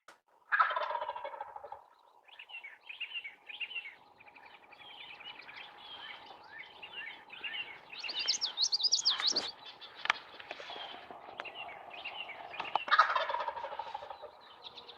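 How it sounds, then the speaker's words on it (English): A wild turkey gobbler gobbles outdoors in a loud, rattling burst, then a long run of quieter clucks and chirps, with more gobbling bursts later on, heard at moderate distance with no talk. "There's the gobbler."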